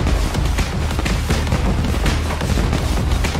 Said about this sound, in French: Tu peux lancer des pétards aussi.